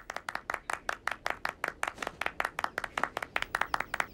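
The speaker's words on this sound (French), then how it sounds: "soyez plus convaincants dans vos applaudissements" An audience claps steadily with sharp, rhythmic hand claps, moderately loud and close, with no talking over it.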